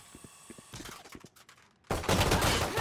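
Gunfire rings out in the tactical shooter Valorant, a few sharp separate shots followed by a loud, dense burst of rapid fire near the end, with no talk.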